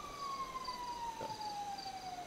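An ambulance siren in the GTA video game, a long sustained wail slowly dropping in pitch, moderately faint with nothing else over it.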